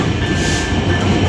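A train drawn by diesel locomotive 6611 rolls into a station, a close, continuous rumble of wheels and engine with a faint steady tone above it.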